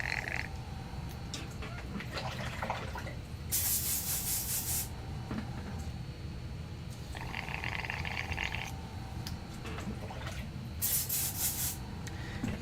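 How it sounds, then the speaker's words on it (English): A freshly cleaned airbrush spraying paint gives soft, short hissing bursts that come and go at a low, close level, with nobody talking. "It's a freshly cleaned airbrush."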